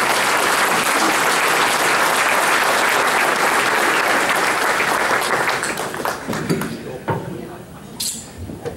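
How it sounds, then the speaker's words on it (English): Audience applause at the 38th anniversary celebration of ESIA, loud and steady from a large crowd, with faint clinks of dishes and cutlery, then thinning toward the end. "A big hand of applause for the people that did that"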